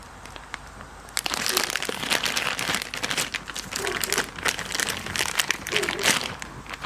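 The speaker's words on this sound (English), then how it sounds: "Comes with a resealable plastic bag" Steady crinkling and rustling of a thin resealable plastic bag being handled up close, continuous irregular crackles for several seconds.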